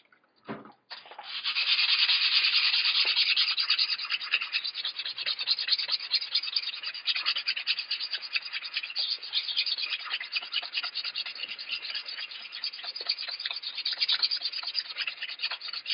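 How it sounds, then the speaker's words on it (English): Rust is scoured off an axe blade with a steady, close, rasping scratch, rapid back-and-forth strokes continuing for a long stretch without pause or talk. "Basically all we're doing is scouring that up so that all the heavy rust particles are scraped away."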